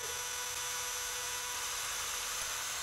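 A portable band saw with a cobalt blade cuts through metal under 40 ounces of weight, giving a steady, high-pitched whine with a grinding edge that runs unbroken and fairly faint throughout.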